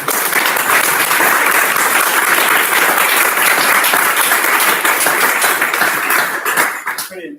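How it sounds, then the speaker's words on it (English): An audience at a climate and nature bill talk gives a round of applause, a loud, dense burst of clapping that holds steady for several seconds before quickly fading out. "we say a round of applause for James"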